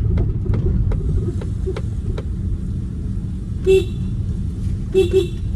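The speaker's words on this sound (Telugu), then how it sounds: "ఇది కంపెనీ ప్రొవైడెడ్ హార్న్ కాదనమాట, ఇది ఆఫ్టర్ మార్కెట్ హార్నే" Aftermarket horn on a Maruti Suzuki SX4 petrol sedan sounds two short bright honks, the second a quick double toot, over steady engine and road rumble with faint clicking beforehand.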